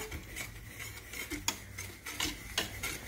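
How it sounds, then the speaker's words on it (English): Whisk scraping and clinking against a bowl while dry ingredients with nutmeg and cinnamon are mixed for canned apple pie filling, a quick irregular run of soft taps and rattles, close and fairly quiet. "I'm just going to take a whisk and whisk all these dry ingredients together"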